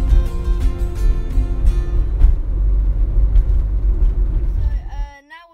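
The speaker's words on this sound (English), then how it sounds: "Right now we're just driving out of Wells Don Place." A car drives along a road with a loud, steady low engine and road rumble close by, then fades abruptly near the end as an electronic tone enters.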